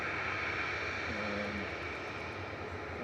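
Airbus A380 jet passing overhead at Manchester Airport, a steady low engine drone with a faint tonal hum, moderately quiet and continuous, no speech.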